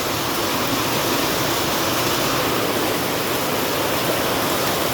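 Rainwater pouring off old roof sheets during rain, a loud, dense and continuous hiss-like rush with no pauses, close by and with no talking over it.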